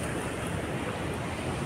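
A large waterfall at a dam roars as a dense, steady rush of falling water, loud and unbroken, with a faint hiss of wind.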